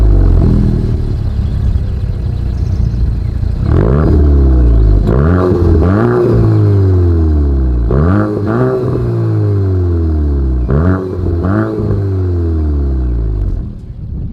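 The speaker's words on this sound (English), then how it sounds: "As always, here is that exhaust clip." A 2024 Volkswagen Golf GTI's dual exhaust barks through about six sharp throttle blips over a deep idle rumble, each rev climbing quickly and falling back, close and loud.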